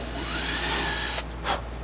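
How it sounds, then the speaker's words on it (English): A power drill whines steadily while boring a hole in a cigar box, then cuts out and briefly revs again, close and loud. "I'm gonna drill right there"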